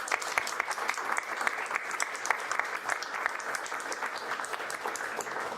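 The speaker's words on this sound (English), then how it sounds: "Let's give them all a round of applause" At a campaign kickoff speech, a room full of supporters applauds veterans in the audience, a strong, even burst of many hands clapping that carries on for several seconds with no speech.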